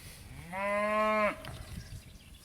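A single bred heifer or cow gives one clear, sustained moo lasting under a second, fairly close, against quiet farm background.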